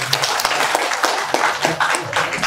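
An audience claps steadily at a public event in Nepal, a dense, lively applause with no gaps, fairly close and loud throughout.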